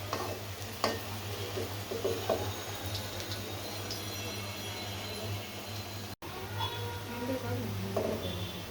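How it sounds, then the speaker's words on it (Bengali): Large onion fritters (peyaju) deep frying in oil, a soft steady sizzle and bubbling with a low hum beneath, a few faint clinks of utensils and a brief dropout. "আমার শাহি পেঁয়াজুগুলো ভেজে নেওয়া শেষ"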